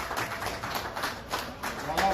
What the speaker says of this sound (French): applaudissez pour le monsieur.